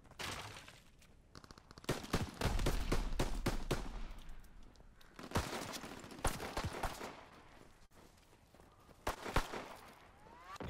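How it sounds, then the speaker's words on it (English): Incoming enemy artillery in Call of Duty WWII, with bursts of heavy explosions and rattling gunfire in irregular clusters. Some blasts come close and loud, others sound farther away. "Incoming enemy artillery."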